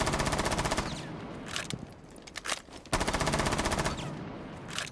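Automatic gunfire from a rifle fitted with a compensator in a video game, loud rapid bursts of shots with brief gaps between strings of fire.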